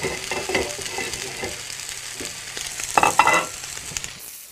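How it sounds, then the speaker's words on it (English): Sirloin steaks sear in a very hot pan, a loud, close, steady sizzle and crackle with a burst of sharper spitting near the end and no talking. "That's the kind of noise you want to hear in the pan every time. That nice sear."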